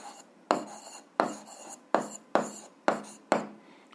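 Pen or pencil writing on paper during a physics exercise: six short, crisp scratching strokes at a steady, uneven rhythm, close and fairly quiet, with no talking.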